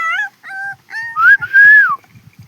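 Small puppies give high whining whimpers and a longer rising-falling yelp, close and loud, with soft shuffling and lapping sounds at the end.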